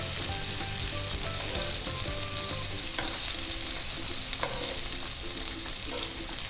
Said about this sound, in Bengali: এরকম লাইট ব্রাউন করে ভেজে নিতে হবে আচ্ছা।